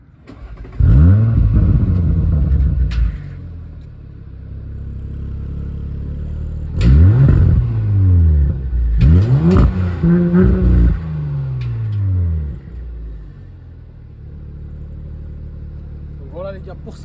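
Audi RS5 with a 2.9-litre V6 biturbo engine fired up in RS mode: a loud starter catch, then several sharp revving bursts that rise and fall close by, settling into a steady idle.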